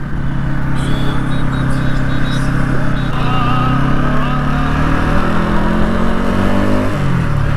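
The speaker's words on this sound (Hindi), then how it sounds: "एग्जॉस्ट पहले से भी ज़्यादा साउंड कर रहा होता एकदम शार्प" A loud motorcycle engine runs steadily close by, its freshly washed exhaust giving a sharp, rumbling note that shifts pitch slightly as it revs throughout.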